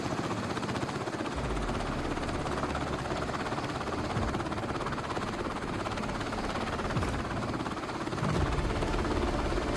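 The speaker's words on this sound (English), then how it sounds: "The rotors begin turning, slowly at first, then spinning up to full speed." Military CH-47 Chinook helicopter rotors spin up on a carrier deck at sea, a loud, steady broadband roar with a low throbbing beat that holds throughout, alone without voices.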